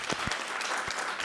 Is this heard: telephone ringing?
no